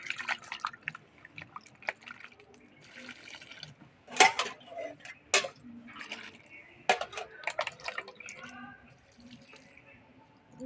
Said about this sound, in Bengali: আমি জলে বিটটাকে ভালো করে ধুয়ে নিচ্ছি